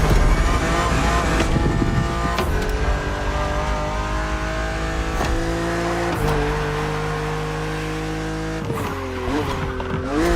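A BMW Z roadster in the racing game The Crew Motorfest revs hard through the gears, its engine note climbing and dropping at each shift, with tyre squeal and skids along the way, loud and close throughout.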